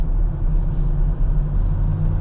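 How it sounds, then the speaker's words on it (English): A Jeep Wrangler JL on 37-inch Nitto Trail Grappler tires accelerates gently onto a highway, giving a steady, low engine and road rumble from inside the cab. No one speaks. "We're just going to accelerate onto the highway here."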